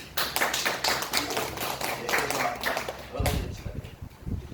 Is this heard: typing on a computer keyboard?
no